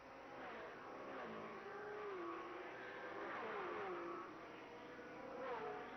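Super late model stock cars race past at Concord Speedway in 1990, engines droning and rising in pitch as the field comes out of turn four and down the straight, a continuous loud roar with several overlapping revving passes.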